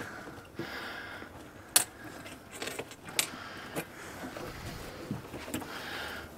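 Keys for a Diabolical Inc Jeep lock box jangling in short, scattered metallic bursts, fairly close and faint to moderate, over a soft background hiss with no talking.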